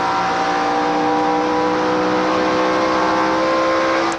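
2002 NASCAR Cup race car, the number 97 driven by Busch, screaming along the track at speed with a loud, sustained high-revving engine roar and steady harmonic whine that cuts off abruptly at the end.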